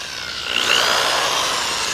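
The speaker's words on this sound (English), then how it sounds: "the reason for drilling a hole before you do a screw" A power drill bores a pilot hole into wood while a quail feeder is being built; a steady, close, gritty whirring runs for about two seconds and swells slightly partway through, with no talking.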